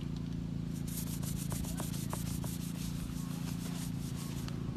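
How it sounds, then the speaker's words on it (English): Shop rag scrubbing back and forth across a car roof during a sunroof delete on a turbo Honda CRX, a steady rubbing swish with faint scratchy strokes over a constant low hum, no talk. "I've been using some of the AutoZone shop rag here to see if that'll kind of scrub its way out"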